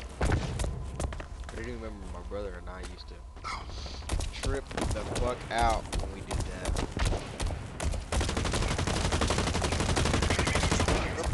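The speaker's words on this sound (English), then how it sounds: "What the fuck is everybody shooting from" Gunfire in the shooter game Blacklight Retribution, crackling repeatedly under a player's agitated talking, with footsteps and dense shooting building toward the end.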